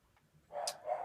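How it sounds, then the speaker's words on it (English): A dog barks faintly in the background of a quiet room, giving two short, muffled barks in quick succession. "you can hear the dog barking there"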